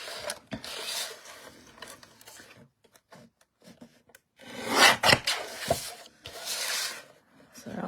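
A paper trimmer blade rasps as it slices through card, in two scraping bursts separated by a quieter stretch of small clicks and handling noises.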